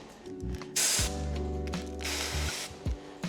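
A sharp burst of slip solution from a keg pump sprayer hisses twice over a low mechanical hum, with faint clicks between the bursts, during paint protection film installation on a car.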